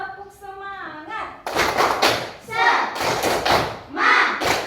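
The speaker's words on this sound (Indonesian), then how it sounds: "ayo kita tepuk semangat dulu. Tepuk semangat." Schoolchildren in a classroom clap out a rhythmic spirited class cheer, bursts of loud claps in patterned groups mixed with children's chanting voices, after a teacher's voice starts it.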